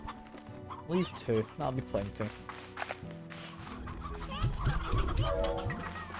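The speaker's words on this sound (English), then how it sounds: "Do you want to throw the roosters in?" Roosters and chickens cluck and squawk in the Slime Rancher video game, several bursts of clucking under a voice talking nearby.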